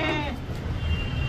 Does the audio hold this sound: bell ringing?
no